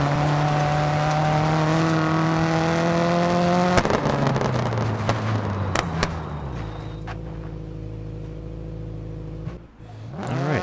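Rally car in the video game DiRT 4, its engine revving hard and steadily before dropping to a lower idle-like drone, with a few clunks of gear changes and braking along the way, loud and close.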